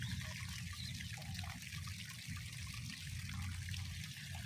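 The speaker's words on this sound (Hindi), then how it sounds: "अभी हम दूसरे को पानी चालू कर दिया।" Irrigation water running steadily into a date palm basin, a constant gushing flow with a low rumble, close by and unbroken.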